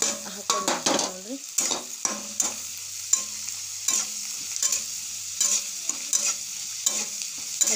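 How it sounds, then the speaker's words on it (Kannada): Tomato, onion and green chili fry in a little oil for seasoned rice, a continuous close sizzle punctuated by frequent rhythmic scraping and tapping of a spatula on the pan. "ಹಸಿ ವಾಸನೆ ಹೋಗುವವರೆಗೂ ಟೊಮೆಟೊ, ಈರುಳ್ಳಿ ಮತ್ತು ಮೆಣಸಿನ್ಕಾಯಿ ಎಲ್ಲ ಸ್ವಲ್ಪ ಎಣ್ಣೆ ಒಳಗೆ ಚಂದ ತೆಗಿ ಫ್ರೈ ಮಾಡ್ಕೋಬೇಕು ರೀ"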